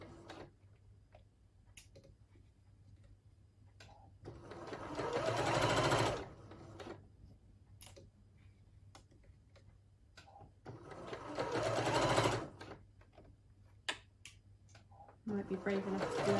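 A pink-threaded overlocker stitches the neckband of a red dress in two bursts of fast, rhythmic mechanical whirring, with quieter pauses and someone talking between them.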